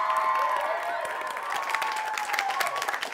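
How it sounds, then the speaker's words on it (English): School theatre audience applauding after a musical performance, a continuous bright crowd clapping that holds steady throughout, with a sustained tone ringing beneath it. "Round of applause for Miss Bush."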